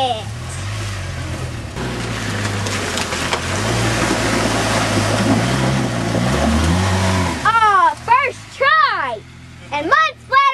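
A Polaris Ranger 700XP utility vehicle drives through a creek with its engine revving and mud splattering. A voice speaks over the sound, and near the end the engine cuts out between bursts of excited talk.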